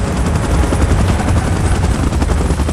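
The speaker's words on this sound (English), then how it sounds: "Chopper in position." A helicopter in PUBG Mobile's Titan mode roars close and loud, its dense rotor chop and engine noise filling the scene continuously without pause.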